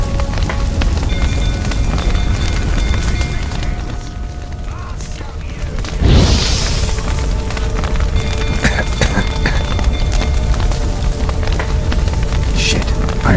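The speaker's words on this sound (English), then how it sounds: "fire's spreading" Crackling fire spreading through a building in The Witcher 3, a steady dense roar with rain-like crackle throughout, briefly dipping and then flaring with a burst near the middle.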